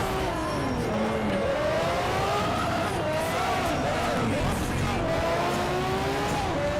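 Race cars in Need for Speed: Shift roar continuously at high revs, with engine pitch rising and falling through gear changes and faint tire squeal. The sound is loud and steady, and a voice speaks over it.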